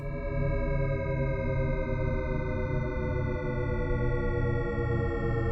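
A descending Shepard tone: a thick, steady wash of stacked tones sliding downward without end, an eerie illusion of continuous falling pitch.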